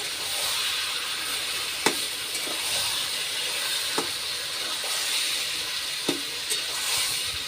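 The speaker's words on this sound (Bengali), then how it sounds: "আবার একটু ভালো করে নাড়াচাড়া করে নেব।" Hilsa fish with turmeric and salt frying in a pan, a constant bright sizzle with a few sharp scrapes of a spatula stirring at intervals.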